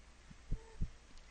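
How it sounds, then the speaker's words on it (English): Two low, muffled thumps of a heartbeat sound in the horror video game One Late Night, a lub-dub pair near the middle over a faint steady hum, alone with no talk. "That heartbeat's really fucking creeping me out."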